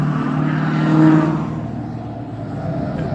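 A car engine revs up on a street in Gatlinburg, Tennessee, rising in pitch and swelling to a peak before easing back to a steady drone, with traffic noise in the background.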